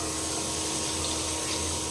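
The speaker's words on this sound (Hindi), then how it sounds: "पानी भी डाल देते हैं।" Water being poured into a cooking pot of milk and sugar, a steady continuous rushing pour heard close and alone.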